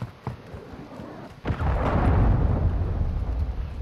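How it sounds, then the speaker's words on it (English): A cruise missile explosion in Call of Duty: Modern Warfare II, a loud deep blast that swells into a long rumbling roar after a few sharp shots, with no talking. "Cruise missile launched."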